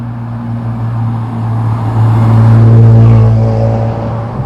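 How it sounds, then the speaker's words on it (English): A BMW E46 M3 with a Super Sprint exhaust drives on the road, a close, steady engine hum that swells louder midway and settles, with no voices. "It's a great sounding exhaust, that Super Sprint exhaust."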